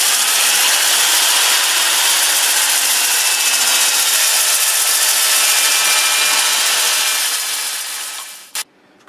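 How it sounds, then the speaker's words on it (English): Loud, continuous abrasive hiss of sandpaper pressed against apple wood spinning in reverse on a lathe at 460 RPM, steady throughout, then fading as the lathe winds down, with one brief knock near the end. "Sanding in reverse at 460 RPM."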